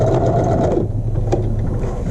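A sewing machine stitches a short back stitch on a muslin practice square, running in a steady close hum for most of the moment before stopping, with a faint click afterward.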